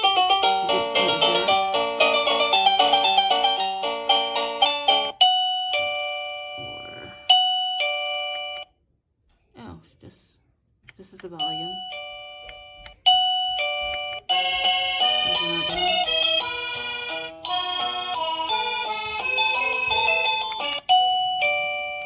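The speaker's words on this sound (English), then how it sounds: "the default is that ding dong, and then you can also change it to different tones." A series of electronic ding-dong chime tones from a wireless caregiver pager, loud and close, playing several different melodies one after another with short pauses between them.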